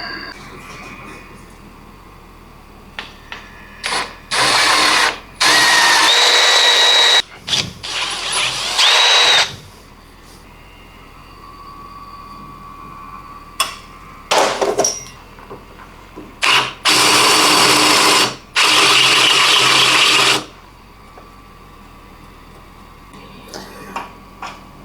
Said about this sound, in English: That's all the holes drilled and the O-ring sitting nice and snug within the bore